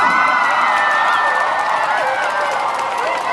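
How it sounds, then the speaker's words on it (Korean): At the end of a night concert in Daegu, a large crowd cheers and claps in a continuous, loud roar thick with high-pitched shouts and screams. "저 시원하게 박수 한번 쳐주셨습니다"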